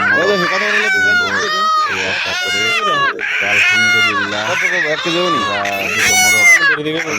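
Ducks and chickens at a busy poultry market held in the desert on a cold winter morning, with many overlapping squawks and cries close by under steady talk.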